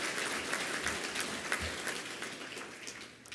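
Audience applause at a Hall of Fame ceremony, a dense wash of clapping filling the room steadily and fading slightly toward the end.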